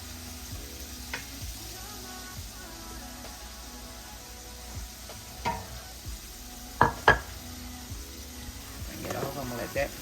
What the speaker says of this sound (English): It's been frying for a couple of minutes on this side